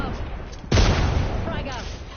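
A frag grenade explosion in the video game Apex Legends, a single loud close boom with a sharp onset and a lingering rumbling decay, following a moment of lower background noise.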